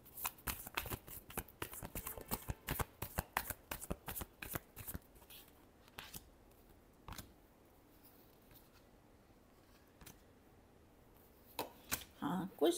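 Tarot cards are shuffled in quick, crisp riffling bursts, close and clear, with the rapid flutter easing into a few isolated slaps and a final burst of shuffling.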